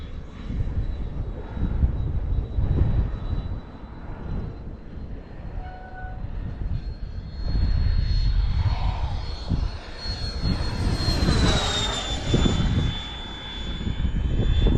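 A Sebart Fiat G-91 electric ducted-fan model jet flies at half throttle, its steady high whine rising and shifting in pitch as it passes overhead, loud against a rumbling outdoor background with no voices.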